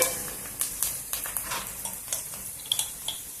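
Onions frying in a pan for a cluster beans egg curry, a soft sizzle broken by repeated scraping and clinking as a utensil stirs against the pan in an uneven rhythm.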